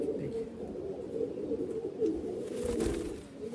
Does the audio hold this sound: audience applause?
no